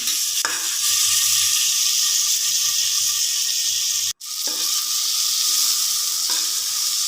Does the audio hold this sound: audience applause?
no